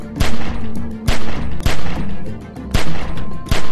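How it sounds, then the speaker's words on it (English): Gunfire in The Walking Dead: 400 Days video game: loud, close single shots ring out roughly every half second in an uneven string, over a low steady hum. "Remember, don't stop shooting."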